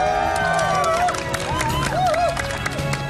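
Applause and cheering from a small group of people on a Palau sea-fishing trip, mixed with lively overlapping voices and shouts throughout.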